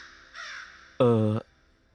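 In a scene from a Tamil-dubbed crime thriller film, a crow lets out a single loud, harsh caw about halfway through, after a quieter tonal sound that fades once the call ends.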